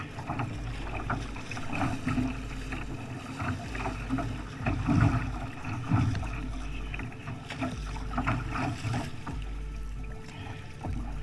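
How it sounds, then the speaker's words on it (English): Strong gusting headwind of up to 40 mph buffets a kayaker paddling in bad weather, with a low roaring wind rumble in surges and water splashing and sloshing close by throughout. "Dave took advantage of the bad weather by kayaking against a strong headwind with gusts of up to 40 miles"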